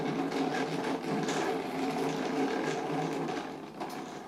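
Slice electronic die-cutting machine cutting paper, giving a continuous busy mechanical whirring and buzzing with small rhythmic ticks throughout, fairly close and alone without talk.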